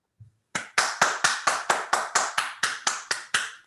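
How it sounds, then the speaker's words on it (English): A single person claps a dozen sharp, evenly spaced times at a graduation ceremony, close and loud against near silence, after one faint soft tap at the start. "can I have a round of applause for our staff?"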